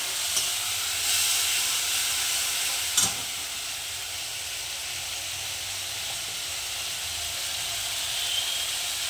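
Ginger-chili paste and ground cumin fry in a hot pan, giving a steady, close, fairly loud sizzle and hiss that runs through the whole stretch, with a brief stirring knock near the middle.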